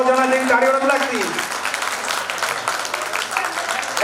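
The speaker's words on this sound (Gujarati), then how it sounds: "આપણે તાળીઓથી વધાવશું. ફૂલ તાળીઓ કરો." At a school batch reunion, a voice speaks briefly before the gathered guests break into brisk applause honoring a teacher. The clapping is dense and lively and continues to the end.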